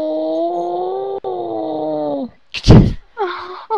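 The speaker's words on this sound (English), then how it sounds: "Just some subtle meowing." A creature in the video game Evolve lets out drawn-out, groaning meow-like wails, one long harmonic cry followed by a short loud burst and a briefer wavering call, close and clear with no talking.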